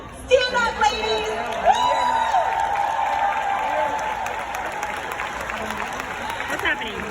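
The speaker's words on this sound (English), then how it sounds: "stand up and let's cheer for them" A seminar audience cheers, whoops and applauds women being called to stand at a sales awards event, with loud shrill screams early on settling into sustained clapping and crowd noise.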